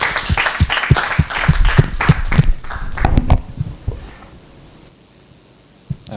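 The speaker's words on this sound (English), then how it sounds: "I think we can applaud the speaker." At a scientific lecture on multiscale molecular modeling, the audience applauds the speaker with loud, dense clapping that tapers off after about three seconds, leaving a quiet room with a single late tap.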